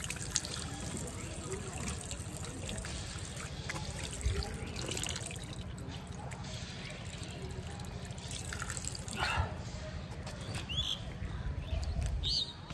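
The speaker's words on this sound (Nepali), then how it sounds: "पिनेका पानीमा मुख धुइदिन्छ अब" Tap water runs steadily while someone rinses their face at a railway station on the India-Nepal border, a continuous splashing wash under light background voices.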